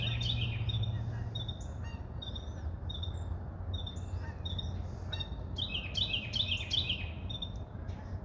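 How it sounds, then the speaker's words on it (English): A small bird sings loudly and close by, repeating high, bright chirping phrases over a steady background hiss. "That bird's like this big, and it's making that loud of a noise."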